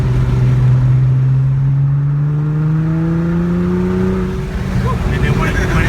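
Nissan GT-R with all-wheel drive accelerating hard, the engine note climbing steadily in pitch as it pulls through the revs, loud and close from inside the car.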